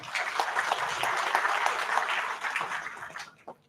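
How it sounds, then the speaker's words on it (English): Audience applause at a college guest session, welcoming a guest speaker: dense, steady clapping from a crowd that holds for about three seconds, then thins and tapers off into a few scattered claps. "Have a big round of applause for Sir."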